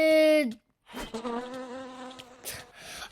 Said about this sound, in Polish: Zabiliśmy pszczołę.